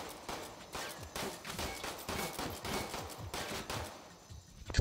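Repeated rapid gunfire in World at War, a quiet, somewhat distant-sounding rattle of overlapping shots continuing steadily before easing off near the end.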